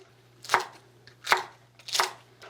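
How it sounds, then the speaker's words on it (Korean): Three sharp knife chops strike a cutting board at an even pace, slicing Korean cheongyang chili peppers into 1 cm pieces, close and clear with no talking. "1cm 간격으로 썰어 놓으세요"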